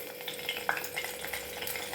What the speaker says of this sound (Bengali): এবার আমি এতে শুকনো লঙ্কা ফোড়ন দেব